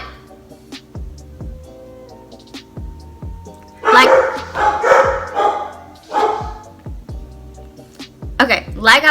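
Several dogs bark in repeated sharp bursts close by, a few yips and whimpers mixed in, with a short loud flurry midway and another near the end, while someone talks over parts of it.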